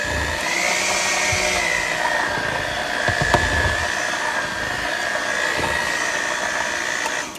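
An electric mixer beats coconut pineapple rum pound cake batter with a steady, loud motor whine that runs without a break, and light clatter sounds from the bowl.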